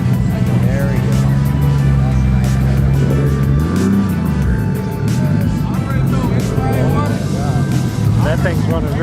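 Car engines idle and rev loudly at an outdoor car meet, with one engine running rich, a steady low rumble throughout as people talk over it.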